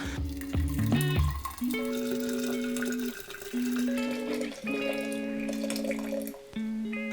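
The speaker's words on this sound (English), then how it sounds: "I'm gonna sterilize it with boiling water" Boiling water pours into a 2-liter glass jar with an airtight lid to sterilize it, a close, steady gurgling stream whose pitch rises in ringing tones as the vessel fills, with brief pauses between pours.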